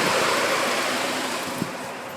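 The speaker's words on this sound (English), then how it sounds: "as the engine heats up, the radiator fan will blow" An overheating 2001 Kia Optima engine runs steadily with its radiator fan going, giving a continuous loud broadband whoosh and hum close by, with no talking.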